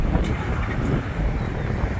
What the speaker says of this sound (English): A little windy. Hoping that doesn't interfere at all.